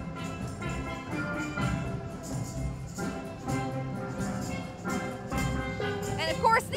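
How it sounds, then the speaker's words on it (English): A steel band marching in a Santa Parade plays reggae Christmas music, with bright ringing pans struck in a lively rhythm over a dense background of crowd and street noise. "this is the sound of the Brockville Lions Steel Band."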